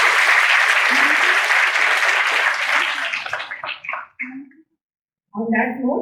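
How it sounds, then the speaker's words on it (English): Audience applauding at a graduation ceremony for a Help the Helpers programme, broad sustained clapping that thins out and stops, then a voice begins speaking. "let's give them a round of applause"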